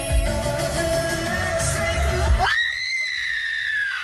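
A woman lets out a loud, sustained scream with a rising pitch that swells over a busy, noisy background and then carries on alone for about a second and a half.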